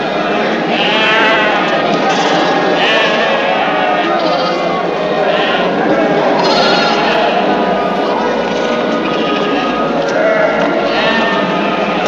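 Sheep bleat repeatedly in a biblical-era outdoor scene, several voices overlapping close and far over a steady, busy background, with people talking among the flock throughout.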